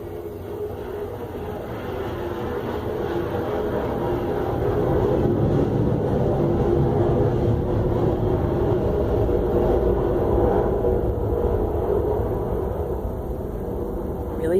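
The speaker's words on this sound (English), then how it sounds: "Sorry if you guys end up hearing the plane." An airplane passes overhead, a broad low rumble that swells to its loudest midway and then slowly fades, heard indoors as a steady background drone.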